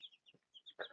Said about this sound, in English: two little Brahma chickies